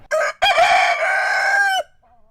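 A rooster crows once, loud and close, a short opening note and then a long strained cock-a-doodle-doo that cuts off sharply, followed by faint quiet.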